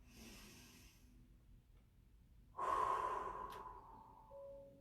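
Slow, deep breaths drawn in and let out during a seated morning stretch with the torso turned toward the right leg. A quiet start gives way to a louder, longer airy exhale near the end, and no one speaks.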